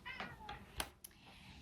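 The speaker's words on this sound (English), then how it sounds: "that's the cat in the background, she's just being a bit moany today" A pet cat meows faintly in the background of an indoor room, a few short drawn-out moans spread across the moment with no other talk.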